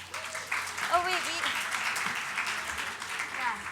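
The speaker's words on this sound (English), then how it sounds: "give yourselves a round of applause for that." Audience clapping at a MoneyShow University finance seminar, a steady wash of applause lasting the whole stretch with a presenter's voice speaking over it.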